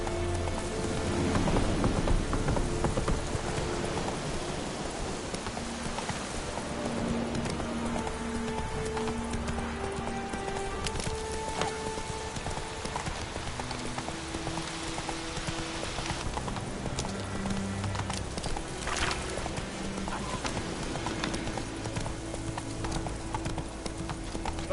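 Horse hooves clip-clop at a steady pace in the fantasy video game The Witcher 3, set against a constant wash of rain, with the hoofbeats fairly faint under the weather.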